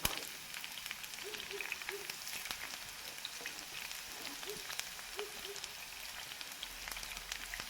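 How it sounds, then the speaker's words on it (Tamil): Long-cut onion slices deep frying in oil for a broccoli and egg dish, a faint, steady crackling sizzle with scattered pops and light bubbling throughout. "ஒரு ஆனியன் நான் நீளமாக கட் பண்ணி நல்லா பொரித்து எடுத்துக்க போகிறேன்"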